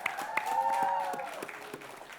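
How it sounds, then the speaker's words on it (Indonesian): Applause for a school team, Regu B, on a televised Indonesian quiz contest: a scattered crowd clapping at moderate volume, with a sustained tone and a voice faintly overlapping. "Boleh kita kasih tepuk tangan untuk Regu B"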